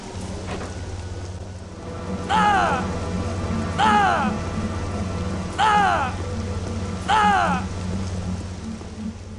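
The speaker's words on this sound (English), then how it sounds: "it's good to get out of that rain" Rain falls in the Star Wars Jedi Academy video game as a steady, close hiss over a low rumble. Four short, descending chirp-like calls repeat at even intervals across the downpour.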